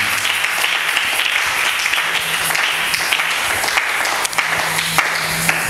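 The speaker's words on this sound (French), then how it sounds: "Est-ce que tu peux acclamer très fort le Seigneur de Jésus?" A church congregation applauds and cheers for the Lord, a dense sustained wave of clapping with voices mixed in, loud and continuous throughout.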